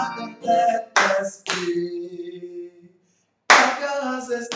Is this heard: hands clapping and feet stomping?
yes